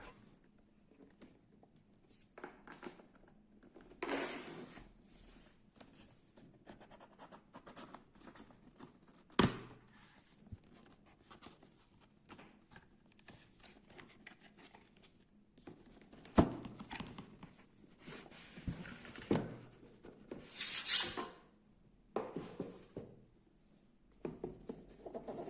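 Unboxing a Gigabyte RTX 3060 graphics card: scattered close cardboard rustles, taps and plastic crinkles, with brief louder handling bursts amid quiet pauses.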